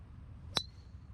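A golf club strikes a golf ball on a Las Vegas course in one sharp, bright metallic ping with a brief ringing tail, heard alone over quiet outdoor background.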